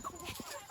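A hen ill with an eye disease clucks softly in a farmyard, a few short faint notes close by.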